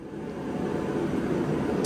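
Steady broadband roar of a running heater in a car repair shop, a constant rumbling whoosh filling the space with no breaks.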